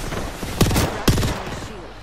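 Two sharp bursts of video game gunfire ring out about half a second apart, each a quick rattling volley over a steady background of game noise.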